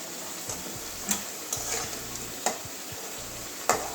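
Potatoes frying in oil in a pan until lightly browned, a soft steady sizzle broken by periodic spatula taps and scrapes against the pan at irregular intervals.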